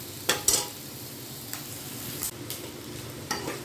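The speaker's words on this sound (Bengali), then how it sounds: "এখানে পেঁয়াজ কিন্তু আমার লাল লাল করে ভাজা হয়ে গেছে" Finely chopped onions fry to a reddish brown in a pan for a dhaba-style chicken curry, a soft continuous sizzle broken by several sharp spoon scrapes and stirs, close by with no talking.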